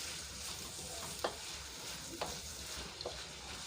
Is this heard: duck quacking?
no